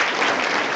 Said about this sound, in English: Give him applause for the question.